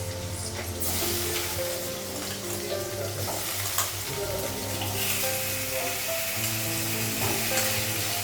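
Potatoes and onions fry in a pan with a constant, bright sizzle, alongside a low steady hum and occasional scraping of stirring, close up and without voices.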